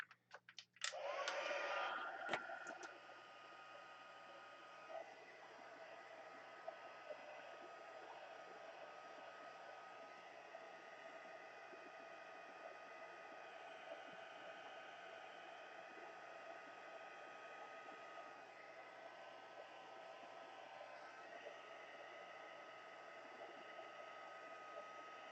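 A hot air heat tool blows steadily for about 25 seconds, used to heat set a craft project; after a louder start it settles into a constant, even whoosh of air heard alone.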